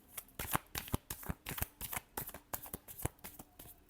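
Tarot cards are shuffled by hand in quick, crisp riffles and snaps, close and clear, with no talking over them.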